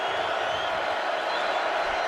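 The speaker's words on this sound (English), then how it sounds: "And you hear that Notre Dame crowd rise to their feet for this first 3rd down." A Notre Dame football stadium crowd rises to its feet and roars ahead of an early third down against Marshall in 2022. A dense, continuous cheering wash holds at an even, sustained level.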